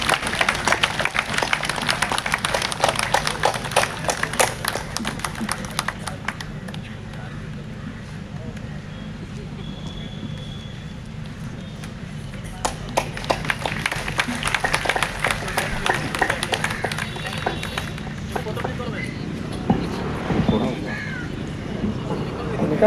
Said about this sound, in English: Please keep on applauding.